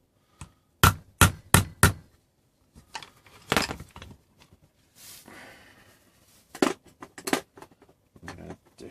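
Sharp, close hammer taps drive an old screwdriver through a Roberts Revival R250 radio case, four quick strikes followed by scattered knocks, rustling handling noise and a few more taps.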